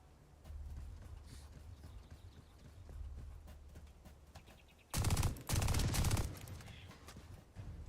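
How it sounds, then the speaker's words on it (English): Bursts of automatic assault rifle fire in The First Descendant, two loud rapid volleys of about a second each, with dull rhythmic game sounds running underneath before and after. "This is an assault rifle, but it feels like an SMG"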